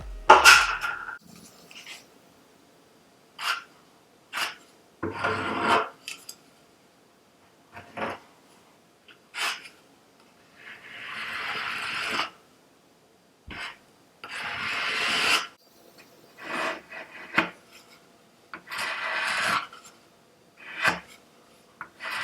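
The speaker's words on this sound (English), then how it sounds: "I'm just gonna apply this with my little spatula" A small spatula spreads joint compound across a pantry wall in intermittent scraping strokes, a dozen or so short, gritty rasps separated by brief pauses, close and moderately loud with no talking.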